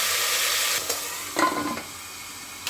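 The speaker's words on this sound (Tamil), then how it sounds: "தக்காளி போட்டு நல்லா வதங்கிறதுக்கு கொஞ்சம் மூடி வச்சு வதக்கினா சீக்கிரம் வதங்கிடும்." Three tomatoes sautéing in oil in a pan for a vegetable egg kurma, with a steady broadband sizzle and a few brief stirring scrapes and clatters near the middle and end.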